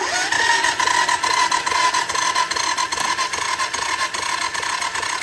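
A Honda ATV engine cranks on its electric starter with no fuel connected, a steady, even churning rasp that runs on without a break and never catches. It sits close and fairly loud.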